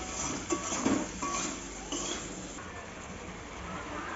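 Cauliflower and potato curry being stirred in a pan: soft metallic scrapes and clinks of a spoon against the pan, some louder knocks early on, fading into a quieter background hiss.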